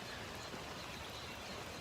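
Steady rain falls outside at night, a dense, even hiss with no breaks, fairly faint and close, with no voices over it.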